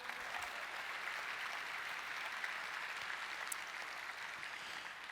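Keynote audience at an Apple management and security conference gives a round of applause, an even wash of many hands clapping at a moderate distance.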